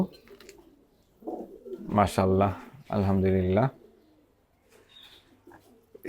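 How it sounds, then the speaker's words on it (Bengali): Soft pigeon coos sound in a quiet space, with someone speaking a few words over them. "এগুলো সবই আমার হচ্ছে পাল্লার কবুতর"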